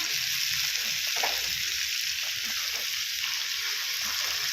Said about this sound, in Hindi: मैं तवे पे अच्छा फ्राई करी, लाल होने तक फ्राई करी